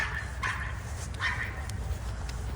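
A dog barks at a cat through a fence, with two or three short, fairly distant barks and yips over a low rumbling background.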